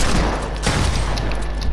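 Dense, continuous gunfire in the Fortnite video game, a loud sustained barrage of overlapping shots that runs through the whole clip with no talking.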